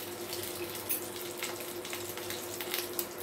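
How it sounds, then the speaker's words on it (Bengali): Whole cloves and cardamom pods sizzling in hot mustard oil in a pan, a steady faint hiss and crackle with no talking. "আমরা লবঙ্গ আর এলাচ ফোড়ন দিয়ে দিচ্ছি।"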